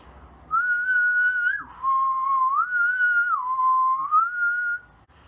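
A person whistles a sustained tune, the pitch stepping down and back up several times across about four seconds, clear and alone with no talking.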